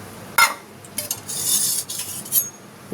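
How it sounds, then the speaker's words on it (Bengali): A spoon scrapes and clinks against a pot while dal with four green chillies is stirred in hot, just-boiling water; several short metallic knocks and scrapes come up close, with no talking. "দিয়ে একটু নাড়িয়ে চাড়িয়ে দেবো যাতে ডালটা তলায় জমে না যায়"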